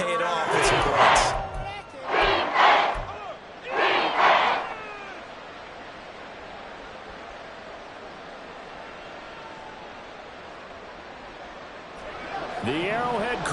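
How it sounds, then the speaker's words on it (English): Video-game crowd at Arrowhead Stadium during a Rams at Chiefs football game, roaring in three loud surges over the first five seconds, then a steady wash of crowd noise, swelling again near the end. "The Arrowhead crowd in full roar."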